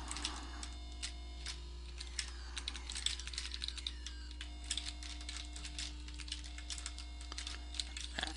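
Continuous computer keyboard typing, a steady stream of quick close clicks and key taps with brief pauses, recorded alongside a Vectrex retro console game session with no talking.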